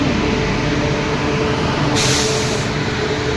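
The Bhubaneswar–Howrah Jan Shatabdi Express pulls into platform two of a station with a loud, steady rushing roar of wheels and carriages close by, and a brief hiss rises partway through.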